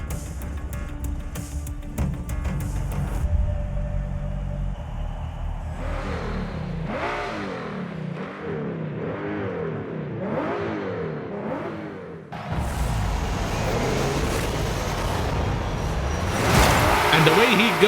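A 2017 Ford GT in Forza Horizon 5 launches with heavy wheel spin, its engine revving and rising in repeated pitch sweeps, then roaring louder toward the end, while someone talks over much of it.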